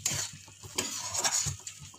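A spoon stirs a pinch of garam masala into thick tomato chutney in a pan, with repeated scraping strokes and a soft sizzle underneath, close and fairly steady, with no talking.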